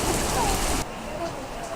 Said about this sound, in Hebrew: סערה בחוץ.